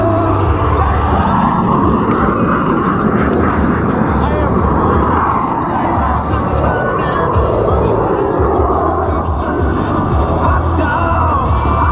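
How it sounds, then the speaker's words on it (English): A Yak 110 aerobatic aircraft flies an airshow display, its loud engine roar rising and falling as it passes, mixed with strong crowd and commentary noise. "Power and weight ratio is what it's all about in the Yak 110."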